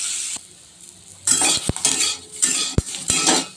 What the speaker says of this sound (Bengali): এবার বেগুনটা আমি ভেজে নেব